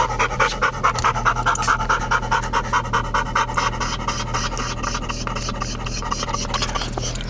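A dog pants rapidly and excitedly inside a moving car. The quick, rhythmic breaths are close and steady over a low, constant engine hum.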